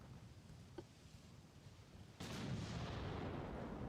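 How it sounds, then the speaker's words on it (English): Battleship main guns open fire in a naval battle, a sudden heavy boom at about two seconds followed by a sustained low rumbling roar, with a faint thud earlier. "Our battleship is opening fire."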